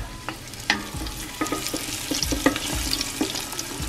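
Chicken wings frying in hot, boiling oil during a wing cook-off, a steady close sizzle broken by frequent irregular pops and crackles, with no talking.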